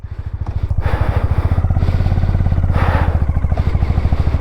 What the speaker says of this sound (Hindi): Bike start.